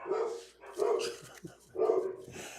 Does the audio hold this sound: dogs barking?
yes